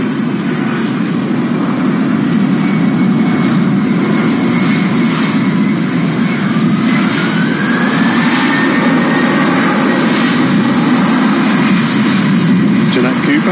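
A Jet2 Boeing 757 jet arriving from Alicante, its loud steady engine roar filling the whole stretch with a slowly rising whine, heard close and continuous.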